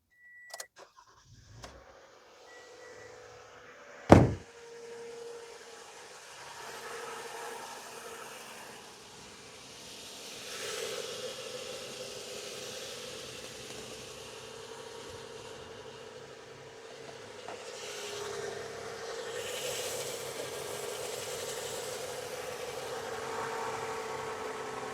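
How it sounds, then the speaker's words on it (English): A 2015 Toyota Sienna with a 3.5 V6 engine cranks and fires with a sharp burst, then settles into a steady, low idle. Faint clicks and rustles come before the start. "So we are going to start the engine now."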